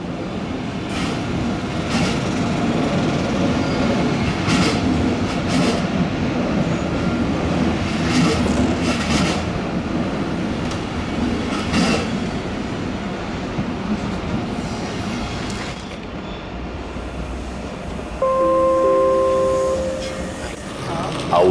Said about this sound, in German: Der Zug, der hier an Gleis 16 einfährt, ist in etwas über 2 Stunden in der Frankenmetropole.